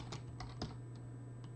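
Code being typed on a computer keyboard for an Arduino LED blink sketch, a handful of separate close key clicks over a steady electrical hum.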